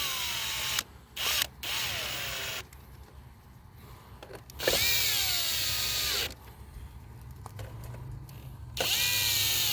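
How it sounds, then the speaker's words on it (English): A power drill drives screws back into the front bumper of a 2008-2012 Chevrolet Malibu, several short whining bursts with rising pitch separated by pauses, close and fairly loud with no talking. "So I'm just putting all these screws back in."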